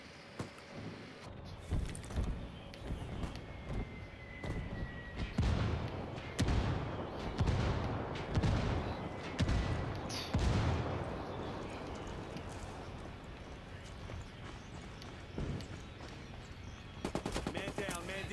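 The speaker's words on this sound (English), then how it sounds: "I heard gunshot." Gunfire in the online shooter Ghost Wars, with bursts of rapid automatic shots and single cracks coming in clusters and cutting through busy game noise, with brief voices in between.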